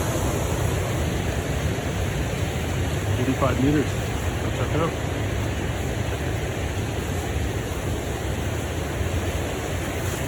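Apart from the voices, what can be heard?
waterfall on Bird River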